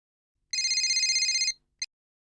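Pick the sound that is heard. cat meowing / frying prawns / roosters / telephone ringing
telephone ringing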